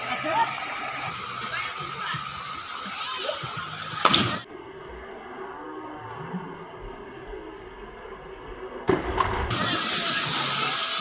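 Someone plunges into a cold swimming spot during a relaxing trip, a sharp loud splash followed by muffled underwater churning, then a second surge as the head breaks the surface, with people talking and children's voices around.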